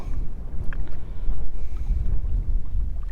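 Wind gusts buffet a small bass-fishing boat on open water, a loud, steady low rumble of wind against the microphone with no voices.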